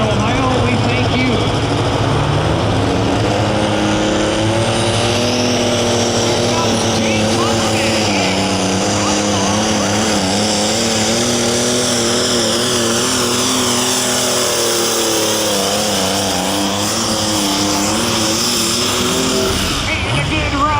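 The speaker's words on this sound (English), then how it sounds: "And a good run, the Case International 1896 Jake Huffman alcohol burner." A Case International 1896 alcohol-burning pulling tractor roars loudly through its pull, the engine's pitch swelling and sagging as load shifts, with an announcer talking over it and a crowd behind.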